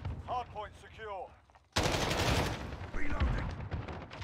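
Call of Duty Modern Warfare gunfire from a Holger-26 in the Catacombs map, a sudden loud burst following a short stretch of voice, then rattling shots and game noise.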